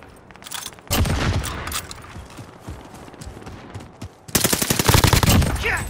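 Bursts of rapid automatic gunfire ring out in Warzone on Rebirth Island, a short volley followed by a longer, louder sustained burst, with faint game ambience between them.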